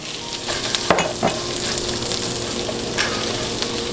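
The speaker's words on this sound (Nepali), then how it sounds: "अब यसलाई एकैछिन भुटौँ।" Onion, tomato and cashew pieces fry in a pan for butter chicken masala, a close steady sizzle broken by a couple of sharp stirring scrapes early on, no speech.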